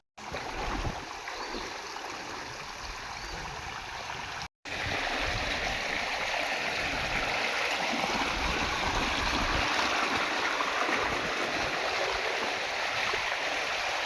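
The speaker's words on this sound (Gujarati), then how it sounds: "આ જો ભાઈ ખેતરોમાંથી પાણી આવે છૂટે છૂટ" Steady, broad rushing of floodwater pouring out of farm fields, flowing strongly and continuously, a dense roar with no voices, briefly cut off once near the start.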